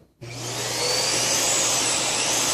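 A vacuum cleaner starts up nearby, its motor swelling from a brief click into a loud, steady whirring roar with a high whine on top. It runs alone, with no talk over it.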